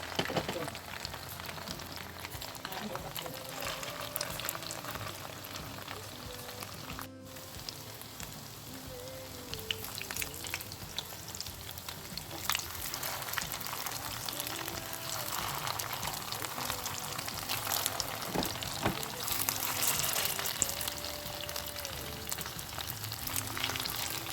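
Chicken vegetable chops shallow frying in oil on a tawa, a steady close sizzle that runs the whole time with a few brief clinks and shifts in intensity.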